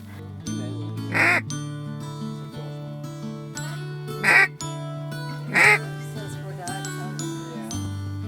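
Three short bursts of duck quacking over a steady low hum and soft tonal background, spaced a few seconds apart at moderate distance.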